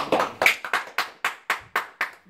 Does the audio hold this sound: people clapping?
yes